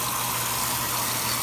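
Water pours steadily into a washing machine tub as it fills, a dense, even hiss and rush of spraying water, close and continuous, with no voices.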